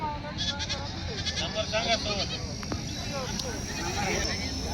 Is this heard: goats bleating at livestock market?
yes